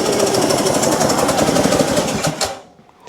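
A Kohler twin-cylinder engine on a zero-turn mower, tested on one cylinder, runs with a rough, rapid pulsing chug close by, then cuts off abruptly near the end.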